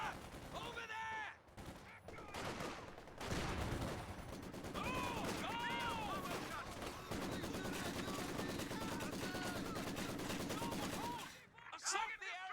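Machine gun fire rattles in Company of Heroes 2, steady bursts of rapid shots under shouted unit voices and battle noise, loud and sustained for most of the stretch before fading near the end.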